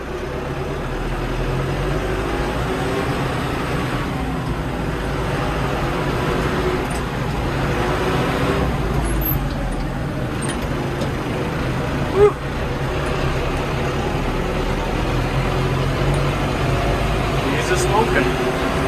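A small tractor engine drones steadily while pulling a disc harrow across dirt, a loud continuous rumble with one brief sharp knock midway.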